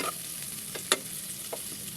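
Onion frying in a pan for milkfish and eggplant adobo, with a steady close sizzling hiss broken by a few sharp spatula taps and stirring scrapes, no voices.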